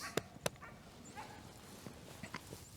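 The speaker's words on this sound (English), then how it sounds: "I'm gonna go up and see what that dog's squalling about." A dog yelps and whimpers in a few short sharp bursts, fairly near, with faint shuffling and quiet background noise between the cries.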